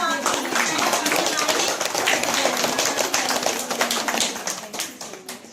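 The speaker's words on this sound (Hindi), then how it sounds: "तो मैं जोरदार ताली से प्रीति जी का स्वागत करना चाहूँगी।" An audience claps at a women's commission NGO event in Delhi during Diwali celebrations, a dense, steady round of hand claps that fades toward the end, with faint talk mixed in.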